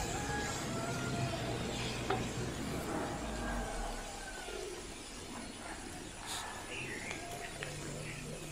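Capsicum being tossed into a pan for beef kondattam, a steady hiss of frying under scraping stirs, with a voice talking faintly in the background throughout.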